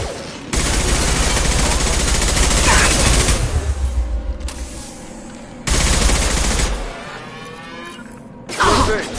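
Sustained automatic gunfire and heavy weapon bursts in the video game Mass Effect 2, loud and close, with dense rattling volleys that cut off abruptly and resume, plus impacts and effects layered over the shooting.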